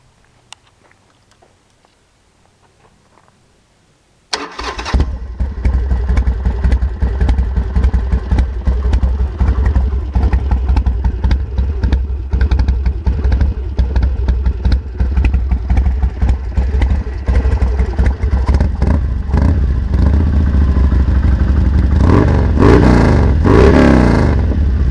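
A 2005 Harley-Davidson Sportster fitted with Bobcat exhaust sits quiet for a few seconds, then fires up loudly and rumbles close by, with rising revs and throttle blips toward the end; no talking.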